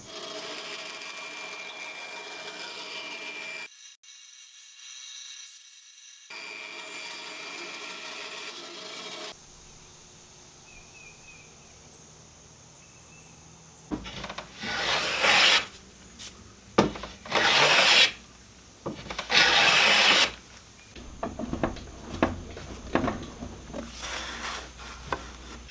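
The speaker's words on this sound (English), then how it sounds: "I'm going to cut 2 strips off the side, and I should still have enough fretboard left over" A blade saws through an obsidian ebony fretboard to cut off binding strips, giving bursts of rasping wood cutting that grow louder in the second half, broken by short pauses, close and without talk.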